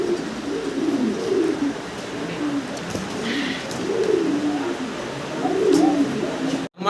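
Pigeons at a pigeon loft give a steady run of overlapping low coos that rise and fall, close and fairly loud over a noisy background, ending abruptly.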